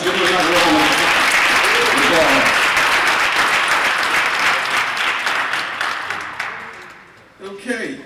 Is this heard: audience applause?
yes